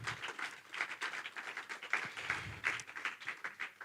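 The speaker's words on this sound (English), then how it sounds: "big round of applause to them." Faint, distant audience clapping at a TEDx event, a thin patter of scattered hands rising and falling in waves, with no voices.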